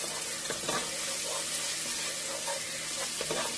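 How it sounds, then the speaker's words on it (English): Chopped onion sautéing in oil for Puerto Rican arroz con gandules, a dense, continuous hiss of sizzling with faint scrapes of stirring, close and steady, without talk. "So I'm doing the chopped onion, sauteing it in oil."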